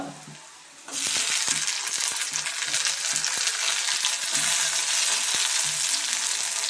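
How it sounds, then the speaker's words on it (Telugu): Tomatoes fry and sizzle loudly in a pan of egg curry, a dense steady hiss that starts suddenly after a quiet moment, with repeated scraping and clinking from stirring throughout. "ఇప్పుడు టమోటా వేసుకుందాం."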